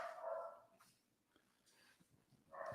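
A dog barks faintly in short bursts at the start and end of the stretch, with quiet gaps between and a few soft whimpering yips, all low in level.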